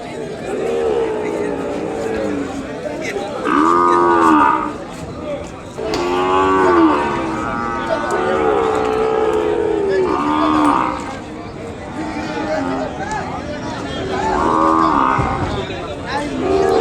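A calf under four months old moos repeatedly at a bull market in Kodada, Telangana, several drawn-out bellows spaced a few seconds apart, loud and close.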